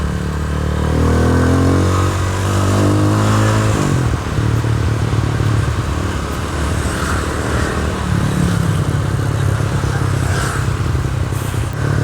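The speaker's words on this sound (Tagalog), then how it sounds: "Ang dami mga nakamotor." Motorcycles ride past on a scenic mountain road near the Malico viewpoint in Pangasinan. A loud engine drone rises and shifts as the bikes go by, overlapping one another close at hand and later fading to a lower rumble.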